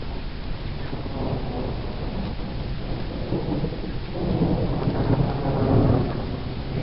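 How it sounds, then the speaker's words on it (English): Heavy rain mixed with hail pours steadily during a thunderstorm while low rumbling thunder swells and rolls in the background, growing louder near the end. "Hear that boom?"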